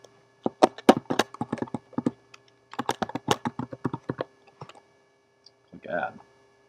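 A name is typed on a computer keyboard in two quick bursts of crisp key clicks, separated by a short pause and followed by a single softer click, close and clear in a quiet room.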